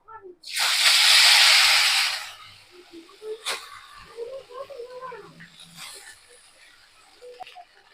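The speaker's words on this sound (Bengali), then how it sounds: "এবারে চাউটাকে ভেজে নেব, তার জন্য দিয়ে দিচ্ছি সাদা তেল।" Chowmein noodles dropped into hot white oil, a loud burst of hissing sizzle that fades over two seconds into quieter crackling frying with occasional clinks.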